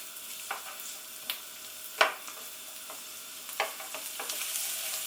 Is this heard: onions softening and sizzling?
yes